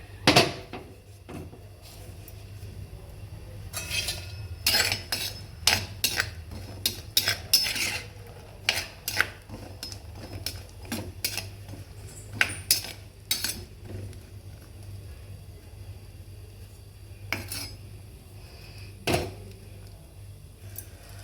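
Green turkey berries sauté in ghee as a spoon stirs them around a metal pan, making irregular clinks and scrapes, some sharp and loud, over a low, constant background hum.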